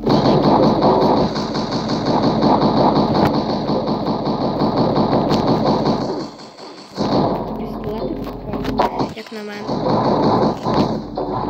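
Dense gunfire and thuds in the mobile shooter game Pixel Gun 3D, a loud continuous barrage with brief lulls, while a player talks over it.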